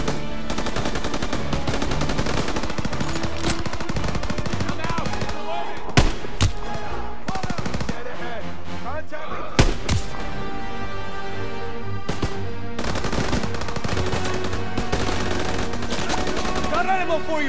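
Sustained gunfire in Call of Duty WWII, a dense, continuous battle of rifle and machine-gun shots with a few louder sharp cracks standing out, set against a constant wash of combat noise.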